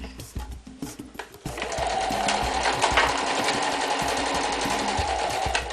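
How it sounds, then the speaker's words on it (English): A sewing machine stitches across the top of a pouch made from recycled denim jeans, catching a ribbon; a few slow needle taps lead into a loud, steady, continuous run. "I'm just going to start at the top, sink the needle in it, and sew right across, catching that ribbon."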